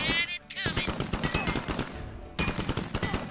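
Rapid gunfire in the video game South Park: The Fractured but Whole, loud bursts of shots firing in quick succession with a short break, mixed with game effects.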